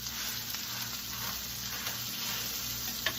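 Steak sears in a pan with butter and garlic. The sizzle is dense and continuous, crackling close and loud for the whole stretch, with no talking.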